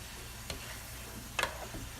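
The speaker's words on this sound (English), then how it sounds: "Give it a quick stir." Beef frying in a pan for kimbap, stirred a couple of times with soft scraping strokes over a quiet, steady background sizzle.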